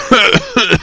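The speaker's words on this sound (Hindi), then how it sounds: "सुबह जब उसकी नींद खुली तो वो जोर जोर से खांस रहा था" A boy coughing loudly just after waking in the morning: two harsh, close bursts in quick succession, each with a rough voiced tail, and no talk around them.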